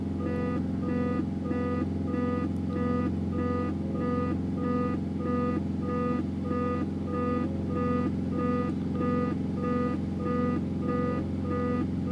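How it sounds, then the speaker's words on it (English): A Cessna C210 landing gear warning in the X-Plane flight simulator beeps in a fast, even, unbroken series of identical electronic tones over a constant cockpit engine drone, with no talking. "That beeping is a warning for landing gear"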